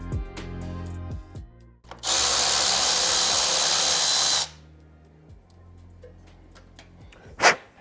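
A power tool on a motorcycle's wire management tray runs in one steady burst of about two and a half seconds, loud and close, to back out a small Allen bolt. Quieter clanks and handling sounds come before and after.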